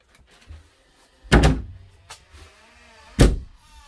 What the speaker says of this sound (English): Big double pull closet back here.